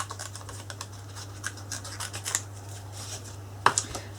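Scissors snip around a paper decoupage Christmas card piece, a run of quiet close crisp cuts and paper rustles at an irregular pace, with a sharper snip near the end.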